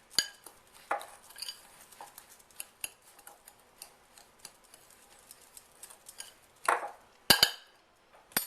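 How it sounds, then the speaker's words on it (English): Fork scraping and clinking in a bowl while cocoa powder, brown sugar and granulated sugar are stirred together, a series of faint light taps and scrapes with a couple of sharper clinks near the end. "And I'm just going to kind of mix this together with a fork."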